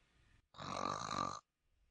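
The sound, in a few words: narrator imitating a soft snore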